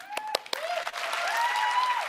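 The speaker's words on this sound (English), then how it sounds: "She started clapping before anyone else." Audience at a Scentsy company event starting to applaud, a few sharp early claps quickly building into a steady round of clapping, with a sustained tone and faint voices underneath.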